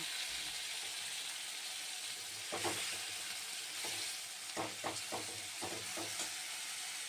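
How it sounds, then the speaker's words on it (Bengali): Onion paste fries in hot oil with ginger-garlic paste for an egg curry, a soft steady sizzle with several quick scraping stirs of a spatula against the pan, quiet and close. "এবার আমি ওর মধ্যে পেঁয়াজ বাটা দেব।"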